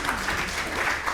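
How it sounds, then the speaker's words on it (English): Audience at a guitar festival gives a brief, steady round of applause, moderately distant and unaccompanied by speech. "Big round of applause for Carsten Grimmer."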